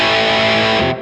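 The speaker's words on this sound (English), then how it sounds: "That bridge pickup's got a real nice bite." An electric Godin Radium guitar on its bridge pickup, giving a distorted rock tone: a loud, brief sustained chord with a biting edge that rings out and then cuts off near the end, with no talk.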